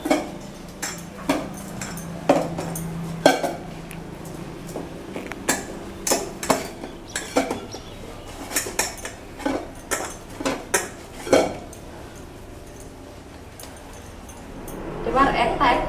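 Luchi dough made of flour is worked by hand in a metal bowl, giving irregular clanks, knocks and light scraping against the metal, with a voice talking over it.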